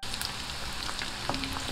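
Chicken for chilli chicken frying gently on a low flame, a soft, steady sizzle with light crackles and pops, close and fairly quiet, with no voices.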